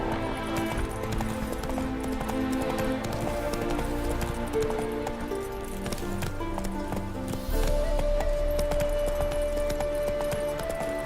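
Roach the horse's hooves clip-clop steadily at a trot in The Witcher 3, a continuous rhythmic patter under game music and ambient sound.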